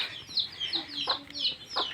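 Several chickens cluck in short, bright bursts, one call after another, close by with a soft background hum.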